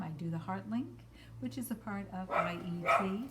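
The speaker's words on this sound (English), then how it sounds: "So if you hear any barking going on" Dogs bark and yip in the background, a few short, moderately loud bursts under steady talking from a voice.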